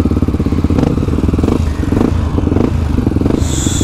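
A trail motorcycle with a rough-running engine descends a dirt trail in São Paulo, its engine droning loud and close with uneven throttle and rattling clatter throughout.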